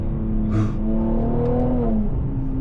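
A Mercedes-AMG C43 accelerates on back roads, its engine note climbing steadily in pitch under a continuous interior rumble, with a brief whoosh of passing air and no talking.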